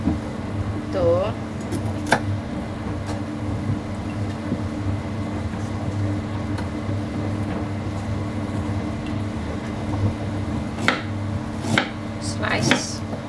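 Knife slicing ingredients for a Filipino-style pork soup with potato and tomato, steady soft chopping taps on a board under continuous low background hum.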